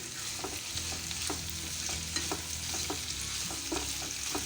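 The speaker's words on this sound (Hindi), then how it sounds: "फ्राई करने से फलियों का कच्चापन निकल जाएगा। मैं इसे 5 मिनट फ्राई करूंगी" Flat beans fry in a pan with a constant bright sizzle, broken by soft, regular scraping strokes of a spatula, close and unaccompanied by voices.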